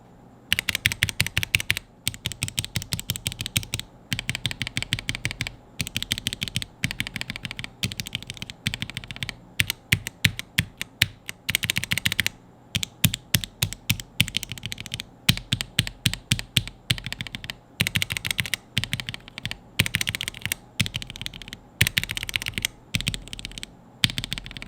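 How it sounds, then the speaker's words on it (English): Quick, steady bursts of typing on a mechanical keyboard with Alpaca linear switches, each keystroke a bright, clacky, high-pitched tap, heard up close and alone with brief pauses between runs. "after watching that sound test, you may have noticed that the switch sounds very high pitched and clacky"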